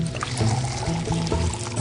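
Water pouring and splashing as it is drawn up from a well near a city gate, a steady liquid rush with low rumbling tones throughout, close and continuous.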